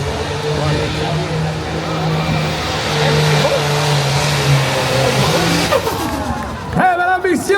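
A car engine roars steadily at an agricultural fair in Canada, driven by a woman, with a sustained droning rev before a sharp change near the end. A crowd and announcer's voice mix in beneath.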